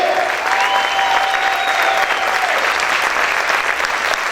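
Worshippers in a church applaud together, a thick, unbroken wall of clapping from a large congregation, loud and steady, with faint sustained tones and murmured voices blended underneath.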